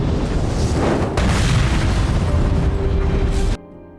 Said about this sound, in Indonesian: ternyata ada tumpahan bensin yang segera memicu api ledakan